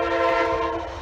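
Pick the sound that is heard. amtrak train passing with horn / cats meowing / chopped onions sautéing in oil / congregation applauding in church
amtrak train passing with horn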